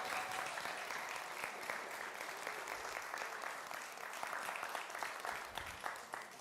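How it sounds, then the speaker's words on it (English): Audience applause for performers at the WE ARE OAKLAND holiday benefit concert, a dense, even clapping from a sizeable crowd sustained for several seconds, heard at moderate distance and fairly quiet, with no speech over it. "Please give them another round of applause."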